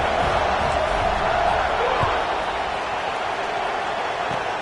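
Steady buzzing roar of a football stadium crowd at a Tennessee Vols game after a score, a dense, loud wash of many voices filling the whole stretch with no break.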